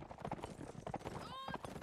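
Cavalry horses galloping in a real-time strategy game match, a rapid clip-clop of hooves running under continuous excited commentary, with a brief rising whinny near the end.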